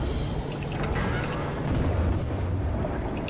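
A heavy blast from an enemy submarine's shotgun weapon in the underwater game Diluvion, a dense, rumbling low boom that fills the whole moment, loud and close, with no speech over it.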